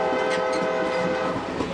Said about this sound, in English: The train trip is almost complete